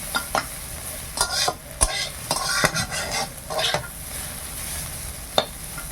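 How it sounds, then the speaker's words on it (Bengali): Food fries gently in a wok over a low flame and is stirred. Close, repeated spatula scrapes and clacks come in an uneven rhythm over a soft, steady sizzle, with no talk. "সেই জন্য একটু সিম আঁচে ভাজতে হয়।"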